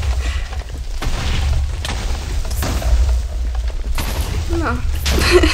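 Explosions in a video game sound as dull low booms and bursts over a steady rumbling game soundscape, with a few sharper hits near the end.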